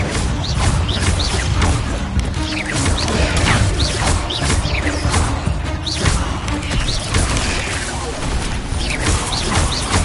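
An Incendio fire spell cast during combat in Hogwarts Legacy, with dense, loud crashing and thudding effects piling up continuously over busy game sounds.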